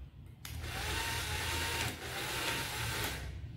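A small battery-powered motorised toy mini swing from a Mechanix Robotix kit runs steadily after its screws are tightened, giving a close, continuous whirring motor hum with no talk.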